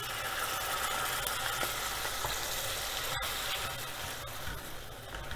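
Tomato puree hits hot oil with fried ginger while cooking malai kofta, giving a steady, loud, close sizzle and frying hiss that holds through the whole clip with no talking.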